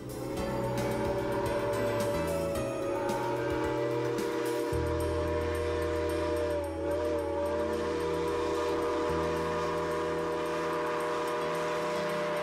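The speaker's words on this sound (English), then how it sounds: "The steam locomotive belongs to the State Railroad Museum." A steam locomotive's whistle sounds over a running train on the Union Pacific line by the Sacramento River, a steady sustained tone with hiss and rumble that holds for several seconds at moderate distance.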